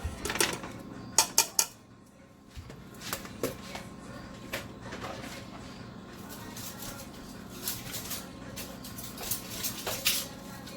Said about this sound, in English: So I'm going to add the rice.